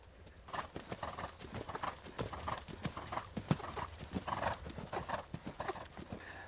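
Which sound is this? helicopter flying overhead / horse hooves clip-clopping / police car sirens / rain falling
horse hooves clip-clopping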